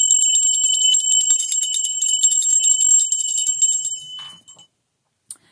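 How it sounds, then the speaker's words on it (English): A small bell that had been buried in a backyard is shaken, giving a rapid, bright, continuous jingling ring up close for about four seconds before it stops, then one short final ding. "We're going to ring the bell."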